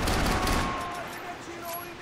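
Dense automatic gunfire in the Max Payne 3 video game, a loud rapid burst at the start fading into scattered shots and ringing echoes, with a voice speaking underneath.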